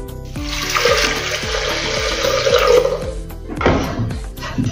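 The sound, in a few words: pouring water into pressure cooker with moong dal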